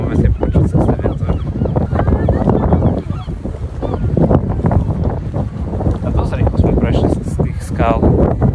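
Strong outdoor wind on a trip in Ireland buffets the microphone with a continuous heavy rumble. People talk over the wind the whole time.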